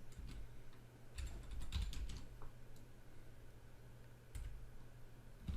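Quiet, close typing on a computer keyboard while writing a script, irregular bursts of key clicks with short pauses, alone without speech.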